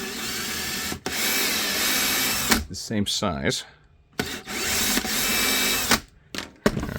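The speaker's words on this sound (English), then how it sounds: "So I drill that out" A power drill bores out a part on a mold in a workshop, whining in two long bursts broken by brief pauses and short clattering handling noises, with someone speaking briefly in between.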